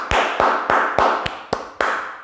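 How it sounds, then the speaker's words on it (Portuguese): One person clapping hands slowly, seven sharp distinct claps spaced roughly evenly, close and dry with short decays, no one speaking. "Deixa eu dar uma salva de palmas para a sociedade Torre de Vigia."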